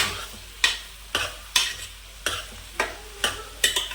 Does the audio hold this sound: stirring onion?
yes